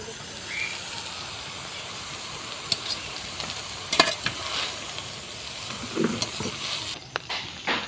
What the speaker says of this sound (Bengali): ঘিটাকে ফ্রাইড রাইসের সঙ্গে ভালোভাবে মিশিয়ে নেব।